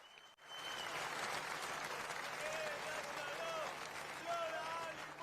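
A large crowd at a Yitzhak Rabin memorial rally for peace shouts and cheers continuously, a dense roar of many voices mixed with clapping, heard from within the gathering.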